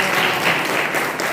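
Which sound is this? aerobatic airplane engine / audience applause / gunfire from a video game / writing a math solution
audience applause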